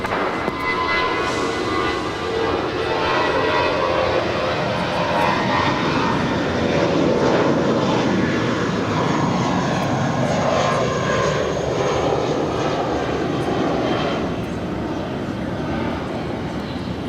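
An airliner departs runway 25 right at Los Angeles International Airport, producing a loud, sustained engine roar that swells gently and stays strong from start to finish with no talk over it.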